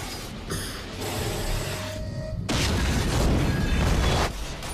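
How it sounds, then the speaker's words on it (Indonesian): A resource box explodes in a loud, broadband blast that roars on for a few seconds, with a dense rumbling crackle before it cuts back. "mereka menembaki kotak sumber daya yang membuat kotak itu meledak"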